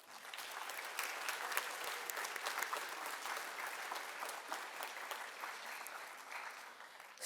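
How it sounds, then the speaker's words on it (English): Steady audience applause fills a hall at a Veterans Day program honoring military veterans and their families, dense clapping from a crowd heard at moderate distance for several seconds. "Let's give our military veterans and their families a round of applause."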